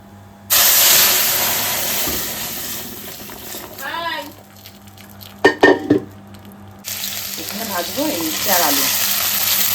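Boiled vegetables hit a hot tempering and erupt into a loud frying hiss that cuts off briefly, then returns with clattering stirring and a voice speaking over it.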